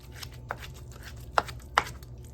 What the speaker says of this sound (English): Let me go ahead and finish cutting this up fine.